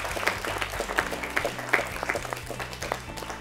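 A quiz show audience applauds team scores, dense clapping crowd sound carrying steadily throughout with a low hum beneath and rising swells of claps.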